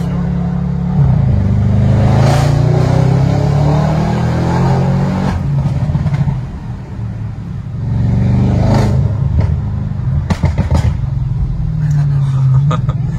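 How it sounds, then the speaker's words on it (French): Audi RS6 C8 with Stage 2 tune and Milltek exhaust revving up repeatedly, a loud close deep engine rumble rising and falling with sharp crackling pops and backfires between revs. "Ça fait vibrer la voiture, les retours."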